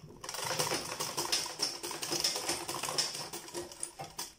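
Sewing machine stitching cord for a DIY sandal slide, a rapid uneven run of close mechanical clatters and needle taps, fairly loud, with no speech.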